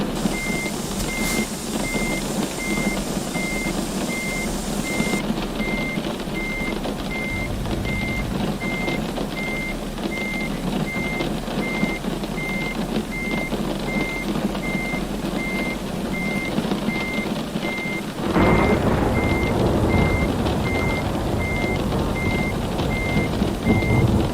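A truck reversing in Euro Truck Simulator gives a steady run of evenly spaced reversing beeps over a low engine rumble, and the engine grows louder near the end.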